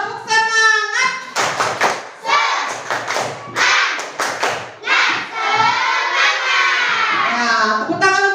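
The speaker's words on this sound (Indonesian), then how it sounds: "kita tepuk semangat dulu ya" A classroom of children does a rhythmic spirit clap, with loud, close thumping claps and taps in patterned bursts mixed with chanted children's voices and a teacher's voice.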